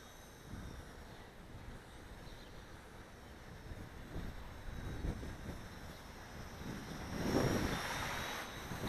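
Wind gusting across the microphone outdoors while a WLtoys V930 Power Star X2 RC helicopter flies, a steady low rumble that swells louder toward the end, with no voices.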